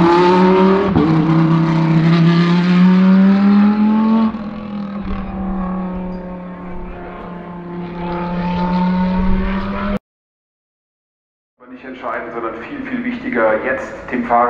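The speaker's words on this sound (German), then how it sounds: "Alle Motoren laufen, alle stehen parat" GT race car engines at the Nürburgring during the ADAC GT Masters finale, loud droning and revving before the start, cutting to silence and then resuming with rising engine notes.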